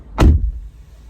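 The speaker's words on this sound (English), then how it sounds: "The car door didn't close all the way" A car door slams shut once, a single close, loud thump followed by a quiet low rumble.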